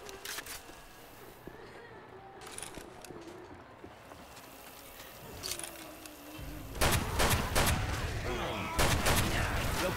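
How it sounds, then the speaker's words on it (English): Bursts of gunfire from a Left 4 Dead 2 match on the Hard Rain map, several broadband cracks scattered through the clip and growing louder and denser near the end, with a rumbling game background and some voice chatter. "Yo, coach! Stop shooting me!"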